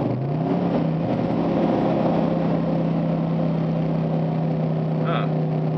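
A 2008 Nissan Titan pickup with an RE5R05A transmission holds a steady engine drone that shifts into second gear, its pitch settling into a sustained rev throughout, with a brief higher note near the end.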